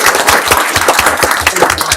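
Audience at a city council meeting breaking into steady applause, dense rhythmic clapping from many people close by, loud and sustained throughout.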